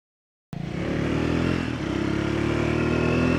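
A Triumph Scrambler 400X motorcycle with a stainless exhaust starts up and settles into a steady, loud idle close by. The engine note stays constant with a slight dip partway through, and no voices are heard.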